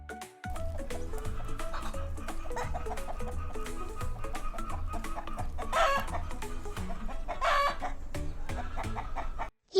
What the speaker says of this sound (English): Yes, this is a chicken.